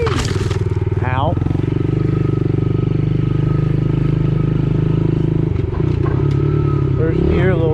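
A Yamaha TTR-110 dirt bike pulls a small wheelie in first gear, its engine droning loud and close with a couple of revving rises, a rider's voice faint underneath.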